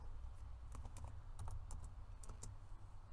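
Light keystrokes on a computer keyboard come in a quick irregular run of taps, soft and close, with no voices.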